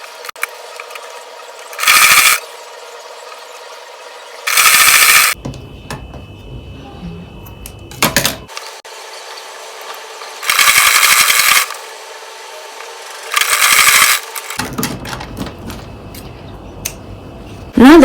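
A sewing machine stitches the shoulder line of an Ankara jumpsuit in several short runs, loud and close, with a steady mechanical whir broken by pauses and small clicks between seams.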